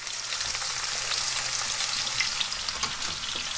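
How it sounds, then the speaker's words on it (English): Slices of zucchini sizzle and crackle in hot olive oil, a close, steady frying hiss with small pops throughout, no talking. "Let me get this frying."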